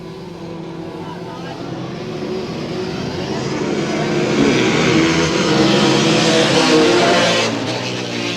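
Several 250cc motorbikes racing downhill at a 1984 motorbike race, their engines a sustained droning whine that swells louder midway then eases slightly, heard at moderate distance with a commentator talking over them.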